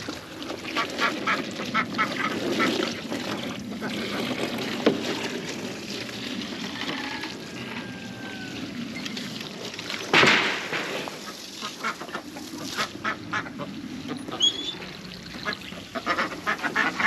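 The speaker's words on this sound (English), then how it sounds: "Pretty sure the white one's a pekin and the brown one is a female mallard." A white Pekin duck and a brown female mallard quack on a farm, with scattered nearby calls over steady outdoor background noise and one brief louder knock.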